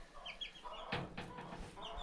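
Chickens clucking and fowl calls in a backyard coop kept alongside rabbits and goats, a few short overlapping cackles close by over a steady farmyard background with no talking.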